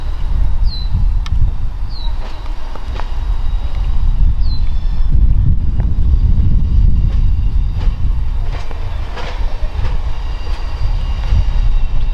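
The Canadian passenger train, pulling 69-year-old Budd stainless steel cars, rumbles steadily past out of Toronto with rhythmic rail clicks and a low roar, while a few faint bird chirps sound early on.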